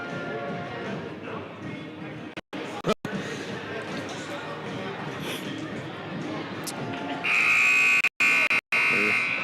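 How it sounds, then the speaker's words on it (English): A long, loud electronic scoreboard buzzer sounds near the end of a girls' high school conference basketball game in a gym, following steady gym noise with voices in the background. "Hitting the buzzer again for Northwood"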